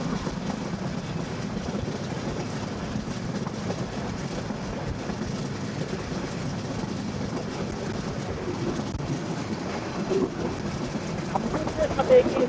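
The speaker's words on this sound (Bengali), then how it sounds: "আমাদের সাথে এগিয়ে চলতেছে ঢাকাতে রংপুর এক্সপ্রেস" Rangpur Express passenger train running on rails in Bangladesh, a steady continuous low rumble with faint rhythmic clatter of the carriages throughout, heard from inside or close by with no distinct voices.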